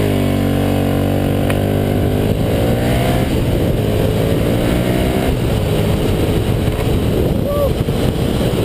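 A Ducati Streetfighter motorcycle engine revs loud and close, its harmonic tone climbing and falling through several throttle blips over a steady idle, with wind buffeting the microphone throughout.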